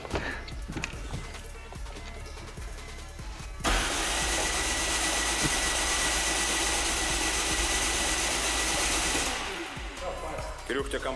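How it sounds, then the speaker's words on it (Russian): A Citroen C4 engine with no compression cranks steadily for several seconds with an even, unbroken whirring buzz, never catching; voices talk before and after it. "Нет компрессии в движке."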